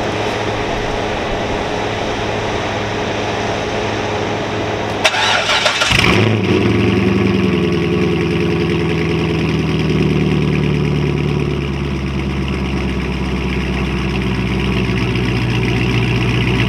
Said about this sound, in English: so we just moving the truck now